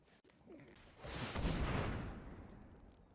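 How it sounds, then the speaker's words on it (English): An explosion effect in a card video game swells into a broad, rumbling boom about a second in, then lingers and slowly fades, fairly loud against a quiet start. "Ill-timed explosion."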